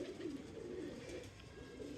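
Pigeons on a Karachi rooftop coo in a low, continuous murmur. Several birds overlap at moderate distance over a faint background hum.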